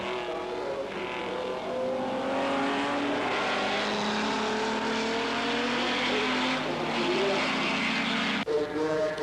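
Classic race cars, including a 3.8-litre Jaguar XK-engined machine, racing on the Nürburgring: a sustained, loud engine roar with shifting revs as cars pass, under faint commentary.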